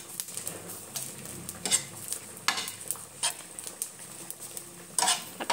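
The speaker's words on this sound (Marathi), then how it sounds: "आपण आता यात थोडंसं जिरं घालूया आणि यालाही थोडंसं शेकून घेऊया" Cumin and onion roasting in a pan, with soft sizzling under repeated scraping and clinking of a spoon stirring against the metal, in irregular bursts.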